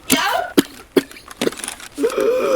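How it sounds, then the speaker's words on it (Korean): In-game character in the shooter Escape from Tarkov coughing in several short, sharp bursts spaced about half a second apart, loud and close, with a player's voice talking between them. "조용히 내 캐릭터야 지금 기침할 때가 아니야"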